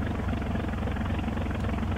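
A radial engine with propeller at maximum throttle in Garry's Mod, a steady dense droning roar that holds constant and loud throughout with no pauses.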